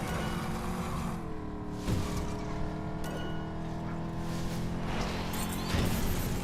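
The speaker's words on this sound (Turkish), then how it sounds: "Aha araba kırıldı." A car in the LEGO 2K Drive video game crashes and breaks apart while its engine drones on, with a sharp impact burst near the start of the second second and another toward the end.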